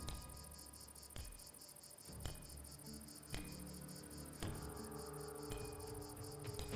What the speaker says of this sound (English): Now I can't not hear the crickets.